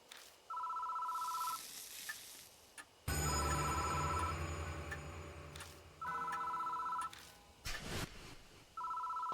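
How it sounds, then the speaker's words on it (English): A telephone rings repeatedly in evenly spaced bursts, with a loud, dense burst of other noise breaking in partway through; no one speaks. "Phone is ringing."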